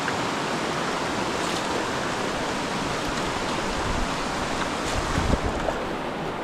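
A mountain river swollen to a wide, pool-like flow rushes steadily, a broad continuous wash of moving water with no voices over it.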